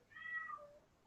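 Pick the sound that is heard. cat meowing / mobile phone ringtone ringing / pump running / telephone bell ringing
cat meowing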